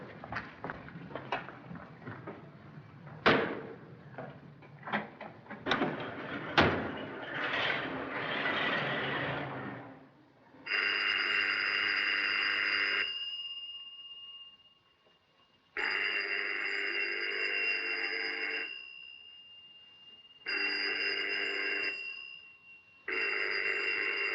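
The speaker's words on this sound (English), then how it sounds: "That phone's been ringing for 10 minutes." An old telephone bell rings in long repeated bursts, loud and close, separated by short pauses, after a stretch of mixed street or room noise at the start.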